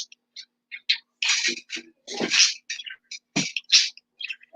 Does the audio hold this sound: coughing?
no